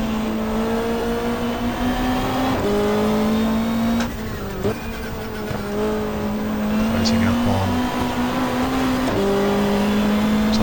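Touring car engine from the GTR2 racing game, a BMW M3 at Calder Park, drones steadily in second gear through a turn and down the straight, rising and dropping in pitch with shifts and revs, loud and close.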